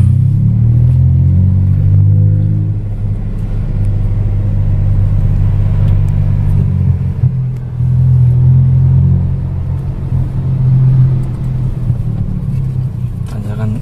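A Datsun Go Panca car engine accelerates, heard from inside the car as a loud, deep rumble that swells and dips with gear changes, and a voice talks over it.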